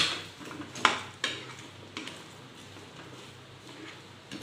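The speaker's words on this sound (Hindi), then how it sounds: "इसमें हमने जो वॉन्टन बनाए थे, जो फ्राई किए थे, वो हम इसमें डाल देंगे और इसे हम अच्छे से मिक्स कर लेंगे" Fried wontons are tossed into sauce in a pan, with a few clinks and scrapes of a spoon against the pan early on, then quieter soft stirring and faint clatter.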